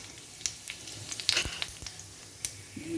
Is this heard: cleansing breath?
no